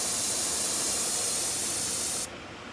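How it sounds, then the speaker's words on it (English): A blow torch turned down to its lowest flame, toasting a wooden crate, makes a steady, loud, close hiss that cuts off abruptly near the end. "It's as low as I can get my torch."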